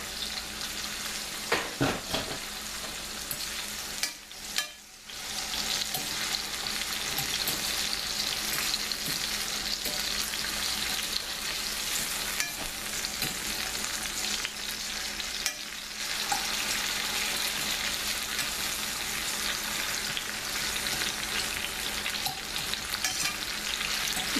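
Onions and peppers sauté in a pan with a constant crackling sizzle, broken early by a few sharp stirring scrapes and a brief quieter dip, then continuing evenly at moderate volume.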